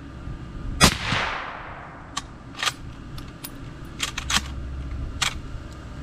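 A Mosin-Nagant 91/30 rifle fitted with an Aero Precision Lahar-30L silencer fires one suppressed shot with a loud sharp crack and decaying tail, followed by metallic bolt clicks and rattles close by.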